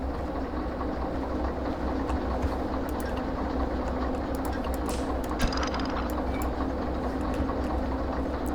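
A Slug locomotive sits parked with its brakes set in the Derail Valley train game, giving off a steady low mechanical rumble and idling drone, heard nearby with a few faint clicks and hisses on top.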